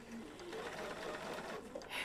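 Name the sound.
sewing machine stitching quilt pieces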